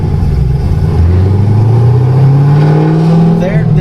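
A modified Chevrolet ZL1 Camaro of about 900 horsepower cruises on the road, its deep engine note rising steadily as it pulls away, loud and close, with a voice talking over it.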